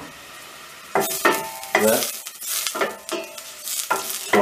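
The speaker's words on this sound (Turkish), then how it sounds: "Soğanları şöyle bir karıştırıyorum." Onions and peppers sizzle steadily in a frying pan while a spoon stirs them in repeated scraping bursts, close and fairly loud.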